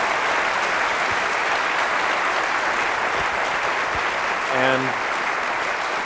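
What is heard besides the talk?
audience applause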